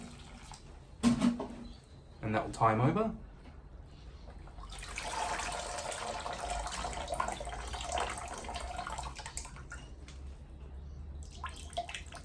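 A succulent in a clear pot gets a small watering, a mid-clip stretch of running, splashing water into soil, with brief handling knocks before it and someone speaking quietly near the start.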